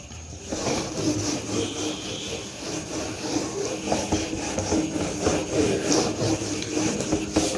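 A teacher rubs a duster across a board in a maths class, a steady, continuous scrubbing and rasping that runs throughout, fairly close and loud with no talking.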